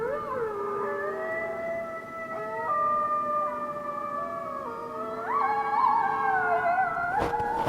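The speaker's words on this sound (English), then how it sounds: "Off in the distance, he could hear a pack of wolves howling." A pack of wolves howls in the woods at night, several long overlapping wailing voices rising and falling together, fairly close and sustained, ending in a brief sharp noise.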